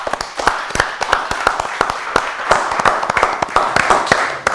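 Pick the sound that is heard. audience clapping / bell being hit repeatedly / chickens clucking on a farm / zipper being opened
audience clapping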